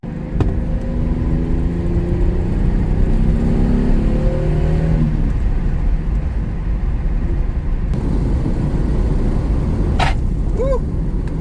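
Lexus SC300 with freshly tucked wiring harness, driven out on the road: an engine close by revving and accelerating through rising gear pulls, with steady road roar and a brief chirp near the end.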